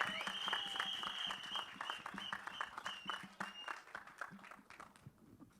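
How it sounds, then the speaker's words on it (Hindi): Crowd applause at a film trailer launch event, a scattered wash of clapping over a faint sustained tone, starting fuller and thinning out toward the end. "जोरदार तालियां"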